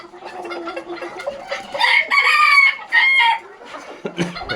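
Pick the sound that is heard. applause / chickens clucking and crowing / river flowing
chickens clucking and crowing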